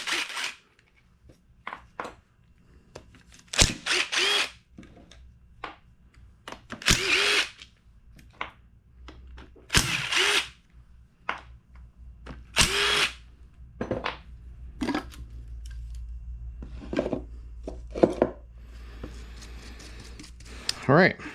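Power tool spinning out the six 10mm bolts on the clutch cover of a Vespa smallframe engine during a rebuild, a series of short close whirring bursts separated by pauses, with someone talking in between.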